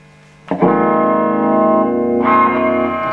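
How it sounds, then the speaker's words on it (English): An electric guitar chord rings out through a Marshall JCM900 amplifier with a spring reverb tail, sustaining, then a second strum swells in near the end. "You can hear a bit of reverb there."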